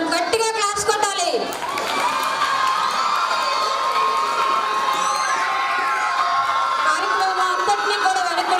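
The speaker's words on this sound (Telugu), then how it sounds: "గట్టిగా క్లాప్స్ కొట్టాలి" Children and an audience cheer, shout and whoop at a Palm Sunday school prize-giving at a Lutheran church, a loud continuous crowd roar with raised voices throughout.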